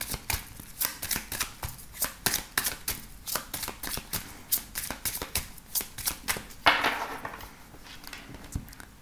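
Oracle cards are shuffled and cut for a reading, a close run of crisp, rhythmic riffling flicks and slaps, with one longer riffle near the end.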